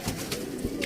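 A pigeon coos briefly and close by, a short soft burbling call.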